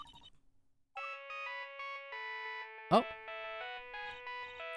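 Old-fashioned phone ringtone in a video game, a bright electronic melody of sustained tones that starts after a short pause and plays on, with a brief voice exclamation partway through.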